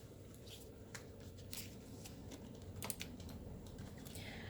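Soft, repeated riffling and tapping of tarot cards being shuffled, quiet and close, with a faint background hum.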